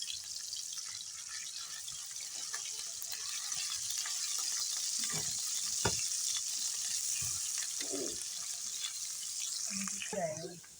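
Spice masala for a chicken yogurt tikka curry frying in a pan, a steady bright sizzle throughout with a few soft stirring knocks and scrapes near the end.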